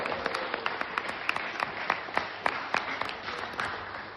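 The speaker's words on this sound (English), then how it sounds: "Lucy, Morgan and Erin, let's have a cheer for the bridesmaids." Wedding guests at a reception applaud for the bridesmaids, a steady, moderately loud wash of many hands clapping with a few sharper individual claps standing out throughout.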